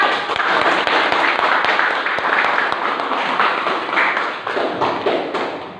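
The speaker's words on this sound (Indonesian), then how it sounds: "Tepuk tangan kelompok 1." A classroom of students applauds a group after its presentation, steady dense clapping with scattered louder sharp claps, filling the room at even loudness for several seconds with no talk.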